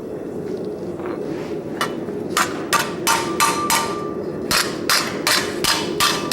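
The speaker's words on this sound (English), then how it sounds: "I use this hammer to flatten," A blacksmith's hammer strikes metal to flatten it and give a stipple texture, a series of about a dozen sharp ringing blows in an uneven rhythm, close, over a low background hum.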